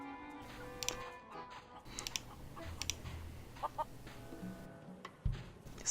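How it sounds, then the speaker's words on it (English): Clucking chickens fill a scene in the video game The Curse of Monkey Island, with repeated short clucks and squawks scattered over a soft ambient background. "you notice from the sound there seems to be an awful lot of chucks around"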